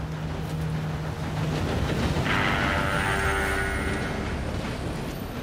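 A train approaching in the Western game Red Dead Redemption 2, a steady rumbling roll that grows slightly louder, with a sustained whistle-like tone in the middle and no talk.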